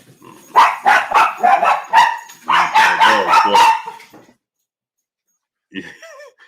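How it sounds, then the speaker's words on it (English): Several dogs playing bark and yip in rapid bursts, close and loud, then fall silent before a short whimpering yelp. "You hear my dog? You hear my dogs?"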